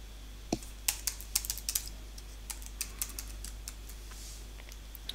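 Someone types on a computer keyboard while entering data into a web map editor. Quiet, irregular clicks come in small bursts over a low steady hum, fairly faint, with no speech.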